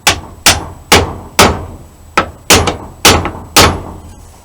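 A hammer drives a knife guard onto a hidden tang: eight loud, sharp metal-on-metal blows, close by and evenly spaced, each with a short ringing decay.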